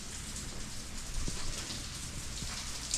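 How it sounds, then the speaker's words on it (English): Steady rain falling outdoors around a garage where a 1965 VW Bug is being worked on, a soft continuous hiss of drops on surfaces throughout, with no voices. "it's raining again"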